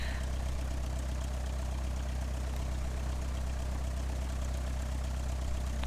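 A Cessna 172 engine idles while taxiing in Flight Simulator X, a steady low droning hum with an even mechanical throb, constant and unbroken, with no talking.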